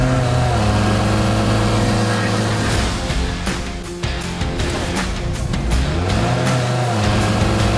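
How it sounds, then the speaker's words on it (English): A 1977 Toyota Hilux mini truck engine runs steadily on all four cylinders, then revs up and down several times, loud and close with no talking. "she's running on all four cylinders now"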